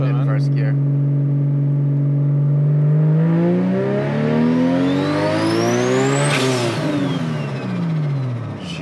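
A Nissan R34 GT-R turbo engine revs hard in first gear, loud and close, its pitch climbing steadily for about six seconds before peaking and dropping back down.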